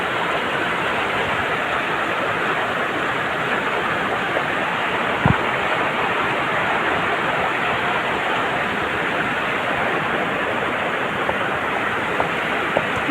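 Floodwater rushing along a stream, a loud, dense and unbroken roar with one sharp knock partway through, with no voices over it.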